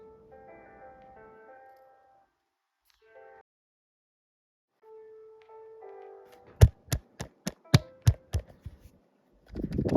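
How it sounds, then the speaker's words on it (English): After some faint musical tones, a quick series of sharp taps knocks on a phone, about eight hits in a loose rhythm, close and fairly loud. "Sorry, I'm hitting the phone."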